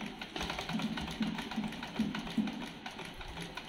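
Sewing machine stitching cloth, a continuous mechanical whir with a fast, even rhythmic stitching pulse, close and moderately loud throughout, no talking.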